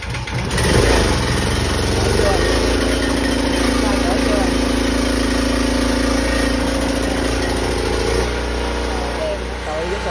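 A generator engine runs steadily near by during a hurricane power outage, a loud, continuous mid-pitched drone with a brief rise at the start, and people talk over it.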